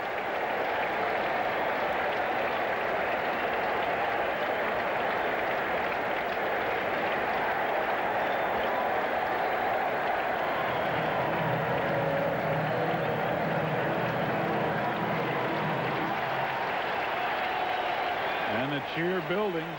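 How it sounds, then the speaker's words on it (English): A ballpark crowd at a Mets game against the Cincinnati Reds keeps up a steady roar of cheering throughout, with a voice talking over it and the noise swelling during a two-strike count. "Cheer building"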